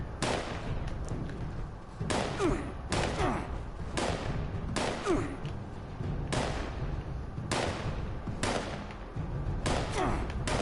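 Repeated loud bursts of Fallout 76 video game gunfire crackle and pop almost continuously, with heavier volleys every second or two over a dense, noisy background.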